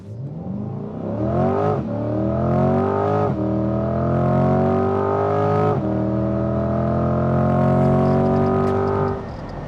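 A 2021 Chevrolet C8 Corvette Stingray accelerating hard from a standstill toward 100, its engine note climbing loudly and then dropping at each of three quick gear shifts.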